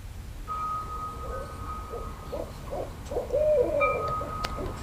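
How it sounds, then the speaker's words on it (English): Owls hooting in a series of soft, rhythmic hoots at moderate distance, with a steady tonal hum running underneath and no talking. "That sounds like owls, right?"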